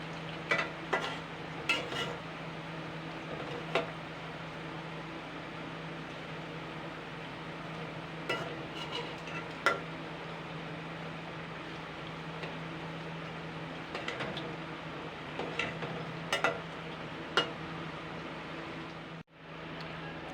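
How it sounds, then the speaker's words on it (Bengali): Coconut biscuits frying in refined oil, turned over slowly, give a steady low sizzle and bubbling hiss that runs evenly throughout, broken by occasional light clicks and taps of a utensil, with no talking. "এবার এগুলো কিন্তু উল্টে পাল্টে আস্তে আস্তে করে ভেজে ভেজে নিতে হবে।"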